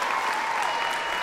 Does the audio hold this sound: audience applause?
yes